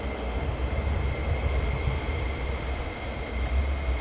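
A Lockheed F-35 fighter jet passes an airbase near Lakenheath, its engine a continuous loud roar with a sustained whine, steady and unbroken through the whole stretch, with no voices.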